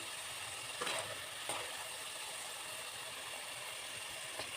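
Homemade potato french fries fry in hot oil with a soft, steady sizzle and a few faint crackling pops, quiet and close, with nothing else heard.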